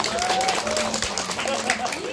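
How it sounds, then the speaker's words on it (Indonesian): Audience clapping at an Islamic youth cabaret stage performance, a steady wash of hands under sustained voices and a tonal, sung-sounding line running through it. "Tepuk tangan."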